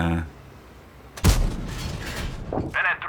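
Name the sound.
tank gun firing HEAT shell, World of Tanks video game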